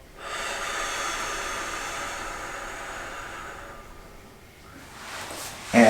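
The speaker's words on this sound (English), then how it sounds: "exhale" A long, steady breath out during a slow floor exercise, a broad airy hiss that fades gradually over several seconds before a brief louder rustle at the end.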